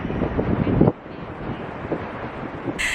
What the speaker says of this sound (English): And it's kind of windy here.